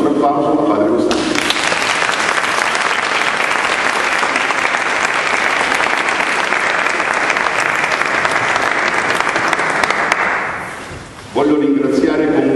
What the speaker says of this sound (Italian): Il nostro grazie e il nostro applauso a padre Costanzo